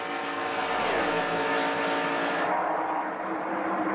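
NASCAR stock cars roar around the track at the 1993 Busch Clash, a dense, loud engine drone with one car's pitch sweeping down as it passes close by, then the pack continuing at full throttle.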